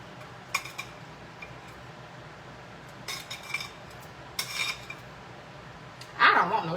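Mushrooms and shrimp go into a pan with scattered clinks of utensils on cookware, soft scrapes and a louder rattle near the end, heard up close without speech.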